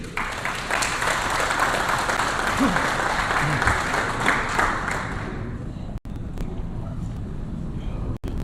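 Audience applause as Mr. Leong, welcomed at the VANZO IPO ceremony, comes to the stage: dense steady clapping from a large crowd that thins out after about five seconds, then a voice over a public address system.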